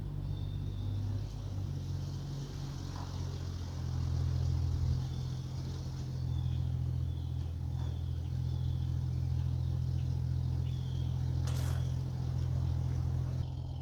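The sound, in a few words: 1996 Jeep Cherokee XJ driving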